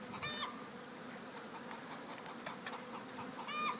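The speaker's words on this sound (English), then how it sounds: "let's go ahead and just dump these bees in there" Honeybees being dumped into a new hive give off a faint, steady buzzing hum with scattered higher chirps and rustles throughout, no voices over it.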